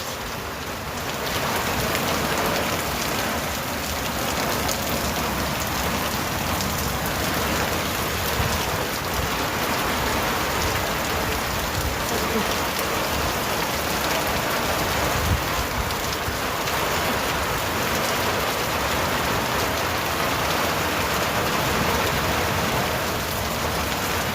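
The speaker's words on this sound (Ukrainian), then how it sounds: "Шумить дощ." Steady rain pours down on a village field and patters on a surface, a continuous dense hiss with no voices.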